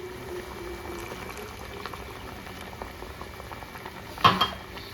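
Curry in a pan bubbles softly at a steady boil over a medium flame, with a brief clink of utensil against pot near the end.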